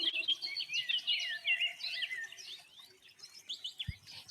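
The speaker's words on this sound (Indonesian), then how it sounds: "Ada suara burung pipit." Sparrows chirp in a dense, busy chorus of quick high tweets, fairly close and continuous. A single low thump sounds near the end.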